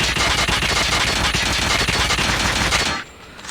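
The RUS-79U gun firing a long sustained automatic burst in a shooter video game, loud and close with a fast steady rhythm of shots, cutting off abruptly near the end.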